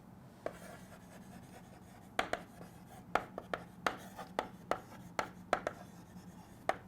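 A pen writes out chemistry notes on antiseptics, a series of sharp, close strokes and taps in an irregular rhythm over a quiet room hum.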